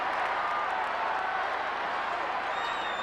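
A big football crowd at Football Park during a round 9 Kangaroos versus Adelaide match, heard as a steady, distant wash of applause and crowd roar that holds for a few seconds under faint commentary.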